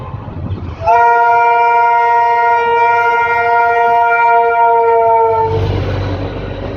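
A train horn blares loud and steady for several seconds over low rumbling, a passing train close by before the horn cuts off.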